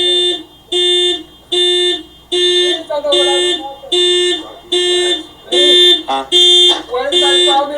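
A car alarm blares in loud, repeating electronic bursts, about a dozen evenly spaced pulses of steady tone, with voices talking over it partway through during a police encounter at a home.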